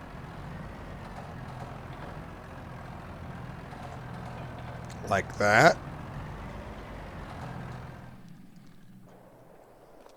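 A tractor engine in Farming Simulator 22 drones steadily at low volume, with a brief louder clunk midway, then cuts out near the end, with someone talking over it.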